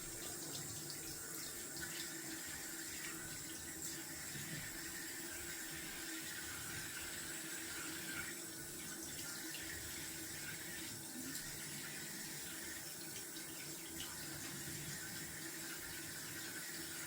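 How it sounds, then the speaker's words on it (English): Bathroom sink tap running steadily for a cold water rinse after a wet shave, a continuous close hiss and splash of flowing water lasting throughout with no talking. "Going down for a cold water rinse."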